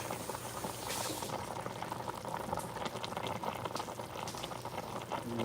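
A short rib stir fry boils steadily in a pot, a dense continuous bubbling and sizzling that stays close and fairly loud throughout, with no talking.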